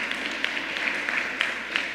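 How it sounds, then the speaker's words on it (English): An audience at a bill-signing event gives light applause, a thin steady patter of scattered claps heard from a distance, with no talk. "You can give that a round. I look like you want to clap on that."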